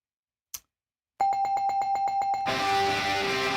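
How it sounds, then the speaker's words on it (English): After a sharp click, an electronic bell rings rapidly in a fast repeating trill that is loud and close. It then gives way to a noisy burst. "It's not a terribly enthusiastic bell, but I will give it the bell."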